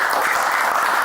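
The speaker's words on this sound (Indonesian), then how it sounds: "Tepuk tangan dulu." A studio audience at an Indonesian talk show claps loudly and continuously for a brief moment, a dense wash of applause with no pauses.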